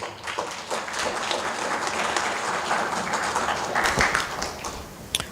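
Audience applause after a product demo, a full room clapping steadily and closely for several seconds before tapering off.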